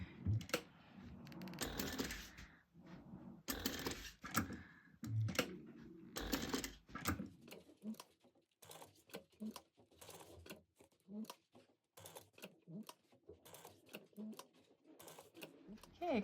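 A sewing machine stitches bag fabric around tight curves in short bursts of rapid mechanical whirring, pausing between runs while a person talks over and between the stitching.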